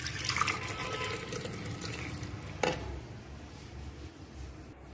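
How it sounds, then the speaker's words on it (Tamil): Milk pours into a juicer jar of banana for a milkshake, a steady liquid stream running for several seconds close to the mic, with a brief clink partway through, then easing off. "அப்புறம் பால் ஊத்திப்போம்."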